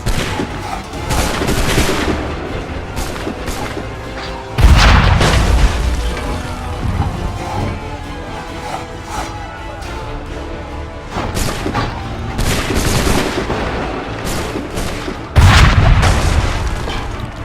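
Gunfire and explosions from the Assassin's Creed III Remastered video game on PS5, with repeated loud booms and volleys of shots over a continuous battle din, heavy impacts recurring every few seconds.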